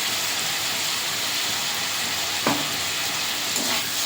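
Fried pointed gourd being stirred into spice paste cooked down until the oil separates, giving a steady close sizzle with a couple of brief utensil scrapes near the end.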